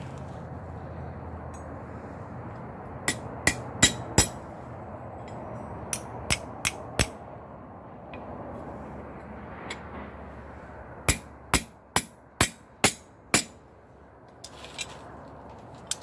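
Sharp metallic hammer strikes on box jaw tongs made from rail spikes ring out in quick clusters of three to six blows, separated by pauses, over a faint background hum.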